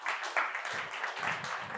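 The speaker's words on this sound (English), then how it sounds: "Give him a big round of applause" An audience at a tech keynote applauds, a dense, steady wash of many hands clapping with a few louder bursts throughout.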